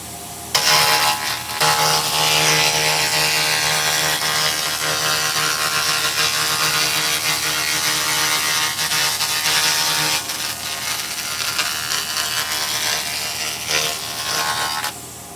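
A 2000 W laser cleaner strips rust from a steel I-beam, producing a loud, steady, harsh hiss and crackle that holds for more than ten seconds before it changes, close up and with no speech.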